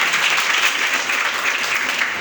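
Audience applause from a seated crowd at a business seminar, dense steady clapping that fills the whole stretch, loud and close without any break.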